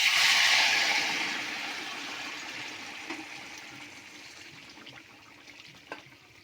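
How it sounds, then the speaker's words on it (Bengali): Hot water pours into a pot of Bengali taro and hilsa fish curry, a strong gushing splash at first that thins to a steady, quieter stream and bubbling close by. "তো গরম জলটা দিয়ে দেবো তাড়াতাড়ি হয়ে যাওয়ার জন্য।"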